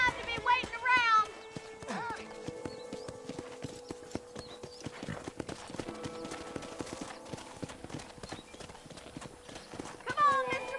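Hooves of a horse clip-clop steadily through a Red Dead Redemption town scene, moderately close, with voices talking over them and brief whinny-like calls at the start and end.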